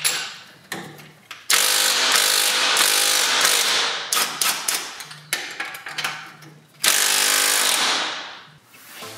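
A tool works loose the motor mount bolts on a 10th-gen Honda Civic Si, giving loud close bursts of rattling, ratcheting clatter broken by short pauses and sharp metallic hits.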